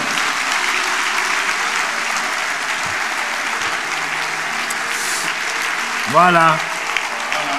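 A church congregation applauds to acclaim the Lord during a pastor's service: a dense, loud, continuous wash of clapping for several seconds, with a brief voice rising near the end.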